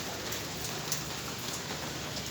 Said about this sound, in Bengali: এদিকে বৃষ্টিও হচ্ছে ঝড়িও নামছে